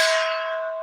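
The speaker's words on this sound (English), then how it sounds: "Bang that fucking gong." A single struck gong rings out with a bright metallic tone that decays slowly across the whole moment, alone and fairly loud.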